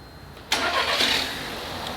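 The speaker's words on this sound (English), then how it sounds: "We just started up the engine." A car's TSI engine cranks and catches with a sudden burst, then settles into a smooth, steady idle close by.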